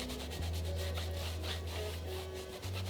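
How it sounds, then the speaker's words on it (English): Cloth soaked in acetone rubbed over a greasy tire surface, a continuous close scrubbing and rubbing noise with a low hum underneath. "Just wanna clean that all off with the acetone."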